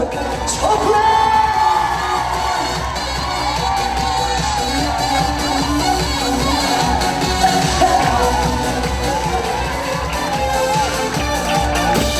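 A large crowd at a concert shouts loudly together: a dense, sustained roar of many voices with cheers and whoops rising and falling throughout.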